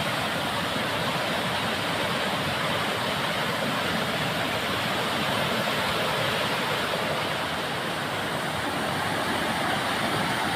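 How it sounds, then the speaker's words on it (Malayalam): A steady, loud roar of rushing water from the nearby Akkachery waterfall, continuous and unbroken throughout, with no voices. "വെള്ളച്ചാട്ടത്തിൻ്റെ അടുത്തെത്തി."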